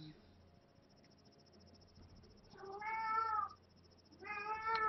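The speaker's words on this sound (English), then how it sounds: "And that is indeed a cat" A cat meows indoors, a drawn-out, close call lasting about a second, followed by the start of another meow at the end, over a faint, steady room hum.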